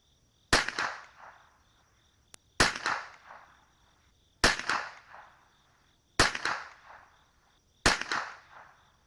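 Five sharp CCI Blazer .22LR rifle shots, each a crisp crack followed by a short decaying tail, spaced about two seconds apart against a quiet outdoor background with faint insect chirping.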